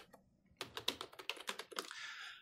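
Quick bursts of keystrokes on a computer keyboard, typed during software deployment setup with no one speaking, close and crisp with an uneven rhythm that ends in a short run of soft clatter.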